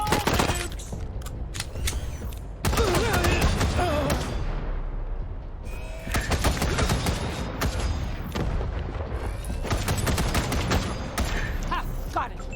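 Rapid gunfire bursts crackle in the combat game Wasteland 3, dense volleys of shots in two loud stretches separated by a brief lull, with sharp reports stacking into rattling fusillades.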